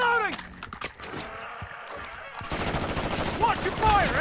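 Bursts of automatic weapon fire in Call of Duty: Modern Warfare 3 Zombies, a high-threat red zone run, with dense rattling shots building toward the end amid game effects and a few distant voices.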